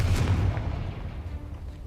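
A Confringo fire spell explodes in Hogwarts Legacy, one muffled low boom at the start that fades into a quiet rumbling tail, moderately distant with no talking over it.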